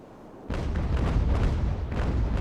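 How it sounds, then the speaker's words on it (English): Naval cannon fire from sailing warships in the game Ultimate Admiral: Age of Sail, a sudden burst of heavy booming that rolls into continuous rumbling volleys, moderately loud and without talk. "More cannon."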